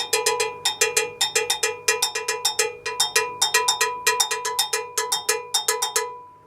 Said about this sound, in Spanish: Los cencerros que se ocupan en la música latina.